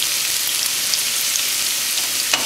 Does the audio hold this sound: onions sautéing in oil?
yes